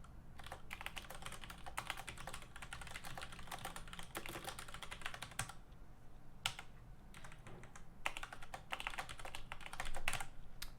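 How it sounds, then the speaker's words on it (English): Steady typing on a computer keyboard, a dense run of quick key clicks with a few short pauses, fairly close and moderately quiet. "Absent-minded typing."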